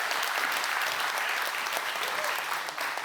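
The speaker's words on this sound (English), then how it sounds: "Can I get a round of applause?" An audience at a 2023 opening festival applauds steadily for Liana Hoornweg, director of Partos, a dense, even wash of clapping that holds at full strength throughout, with a slight dip near the end.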